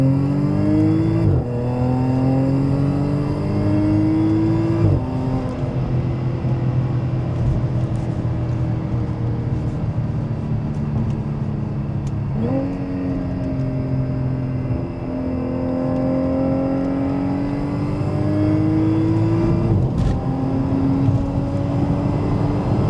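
A car accelerates hard through several gears during a pull, the engine note climbing repeatedly with sharp drops at each shift, loud and close throughout with no talking.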